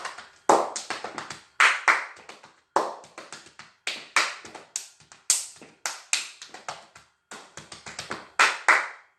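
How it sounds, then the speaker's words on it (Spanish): A steady run of sharp body-percussion hand claps in rhythmic groups, alternating between deeper, hollow claps and brighter, higher-pitched ones, loud and close with no talking. "poder ir metiendo un aplauso grave o un aplauso agudo."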